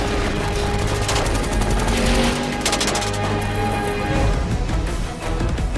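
Blank-fire gunfire erupts on an action film set, a dense automatic fusillade of rapid sharp cracks with bursts of heavy reports, loud and close, continuing through the whole stretch with no voices over it.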